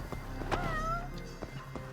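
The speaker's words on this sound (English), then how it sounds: "If you hear a cat meowing" A cat meows in the video game Judgment, one clear drawn-out cry standing out near the start over steady game background ambience, with a couple of fainter short mews later.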